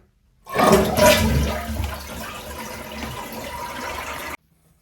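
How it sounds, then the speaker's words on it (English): A toilet flushes as its tank is drained during a tank-to-bowl gasket repair, a loud rushing gush of water that swells quickly, settles into a steady draining roar for several seconds, then cuts off. "Now I'm going to drain the water out of the tank."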